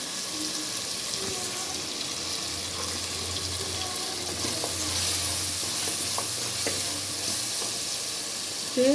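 Garlic and curry leaves frying in a pan, after the tomatoes, with a steady close hissing sizzle that continues without a break and a few faint clinks of stirring.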